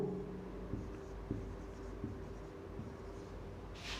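Chalk or marker taps and scratches on a classroom board come in several short strokes, faint and close, over a quiet room hum.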